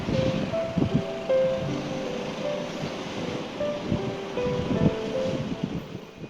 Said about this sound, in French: Il y a toujours autant de vent